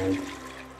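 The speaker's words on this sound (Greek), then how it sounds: "αυτό που θα κάνω σε μια κατσαρόλα είναι να ρίξω το νερό μου" Water poured into a saucepan to start a honey syrup for a sugar-free samali, a brief splashing rush that fades quickly, with no talking.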